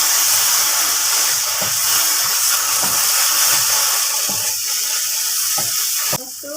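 Blended chili paste frying in a pan, a steady close hiss and crackle of sizzling oil throughout with occasional stirring scrapes and clinks.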